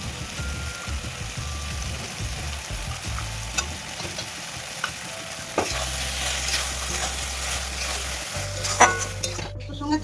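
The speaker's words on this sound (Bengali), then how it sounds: "আড়াইশো পেঁয়াজের মধ্যে আমি 2-3 চামচ পোস্ত বাটা দিয়ে দিচ্ছি।" Poppy seed paste stirred into about 250 g of frying onions, with a close, continuous sizzle under repeated scraping and stirring of a utensil against the pan, with a few sharper clinks.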